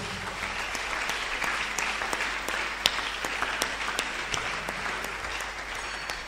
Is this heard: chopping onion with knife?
no